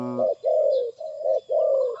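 Low, resonant dove coos repeat in a steady pattern of short and drawn-out notes, close and clear against a quiet background.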